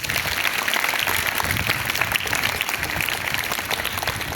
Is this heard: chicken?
no